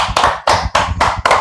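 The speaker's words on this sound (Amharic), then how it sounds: "እስቲ አጨብጭቡ" An audience at a freestyle rap cypher claps on request: about five sharp, rhythmic claps in quick succession, close and loud.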